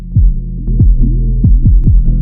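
In FL Studio, Maximus expansion on the low end produces loud, booming, throbbing bass hits. Kick-like pulses drop in pitch over a constant deep hum, repeating at an uneven rhythm. No talking.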